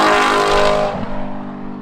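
An Audi R8 engine roars hard under acceleration right behind the passengers, loud and close, its pitch climbing before easing off as the car settles.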